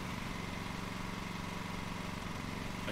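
Lawn mower engine in the Lawn Mowing Simulator video game runs at a steady idle, a continuous mid-pitched drone with even loudness throughout and no talk over it.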